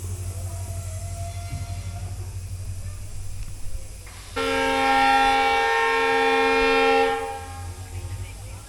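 Runicha Express passenger train 14088 travelling from Jaisalmer to Delhi, low rumble of the running train with a long loud horn blast midway, then fading back to rolling noise.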